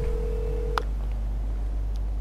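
A phone in GTA Online places a call to the mechanic: a steady dial tone runs, then cuts off with a short click, leaving a quiet line under a constant low hum.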